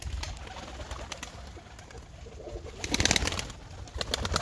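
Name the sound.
Kerkük perdeli pigeons cooing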